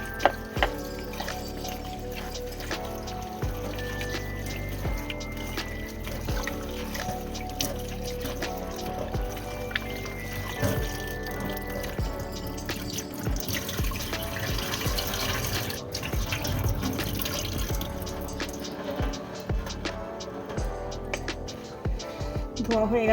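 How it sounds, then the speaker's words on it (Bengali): Steady running tap water splashes over jute leaves being washed in a kitchen sink, a continuous close rushing stream with shifting splashes, mixed with background sounds. "পাট শাকগুলো একটু ধুয়ে নিই।"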